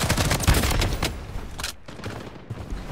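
Video game gunfire: rapid bursts of loud shots and booms, dense at first and then thinning to sparser, quieter reports.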